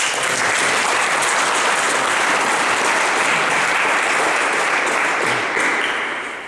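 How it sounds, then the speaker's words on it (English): Audience applause fills a room at the unveiling of a portrait bust sculpture of Henry Joy McCracken in Kilmainham Gaol, a dense, steady clapping from a crowd lasting several seconds before tapering at the end. "A round of applause for Michael, please."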